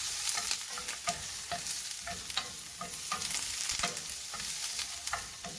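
Garlic sautéing in a pan for a roast beef sandwich, with a steady crackling sizzle and repeated scraping stirs of a utensil against the pan, close and continuous.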